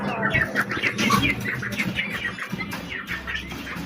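Pet doves and their young chicks in a home enclosure, soft chirps and fluttering wingbeats close by, with faint rustling in the background.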